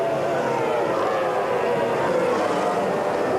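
A racing powerboat powered by a Mercury 2.5 litre engine roars past in a steady, broad high-revving drone, continuous and fairly loud, heard from the shore at a French championship race.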